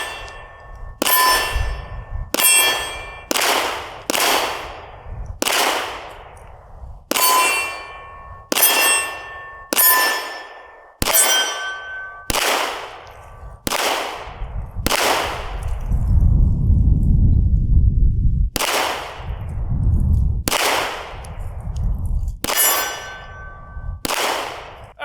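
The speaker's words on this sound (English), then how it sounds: "First shots of the golden Glock." A golden Glock pistol fires at a range: about twenty sharp, loud shots ring out in steady clusters, each crack followed by a short metallic ring and fade, with a brief low rumble in a gap between strings.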